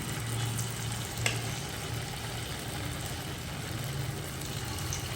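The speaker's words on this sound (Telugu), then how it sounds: "ఇంకా దీంట్లో అయితే గోపి ఒక్కొక్కటి అయితే వేసేసి మనమైతే ఫ్రై చేసేసుకోవాలండి." Cauliflower pakoda pieces deep frying in fresh oil give a steady, even sizzle that holds for several seconds with no talk over it.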